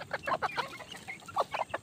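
A hen and young chicks clucking while feeding, a quick series of soft close clucks and peeps in short bursts.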